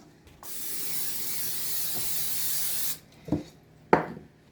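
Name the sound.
cooking spray sprayed into bowl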